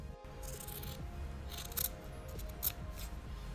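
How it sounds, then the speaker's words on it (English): Scissors snip through fabric in a few soft, quick cuts, faint and close against a quiet room with no talking. "the best sound in the world, cutting your fabric out."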